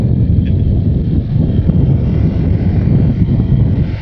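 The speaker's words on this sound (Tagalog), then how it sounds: "Ang lakas ng hangin nun eh." Steady, heavy low rumble of strong wind buffeting the microphone at a Pacific view deck in Dingalan, Aurora, continuous and loud throughout.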